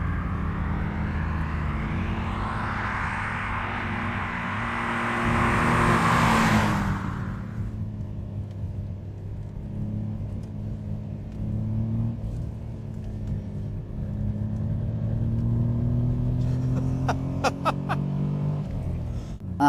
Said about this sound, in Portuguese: Assim que você pisa no acelerador, ele empurra o carro para frente de forma muito suave e macia.